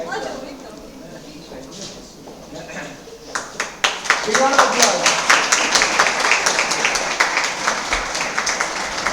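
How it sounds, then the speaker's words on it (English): Audience applause at a food entrepreneurs' event, beginning with a few scattered claps over murmuring voices, then swelling into steady, dense clapping from a crowd that continues to the end. "You also need a round of applause"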